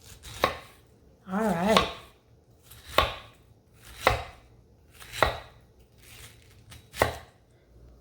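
A knife cuts into a pineapple upside-down cake, making six separate sharp, crisp chops spaced about a second apart. A short spoken word comes between the early cuts, and the kitchen is otherwise quiet.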